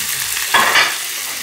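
Boiled potato, tomato, diced onions, ginger, green chili, spinach and green pepper sauté in a hot pan, a short burst of sizzling with a brief scrape of stirring, loud and close.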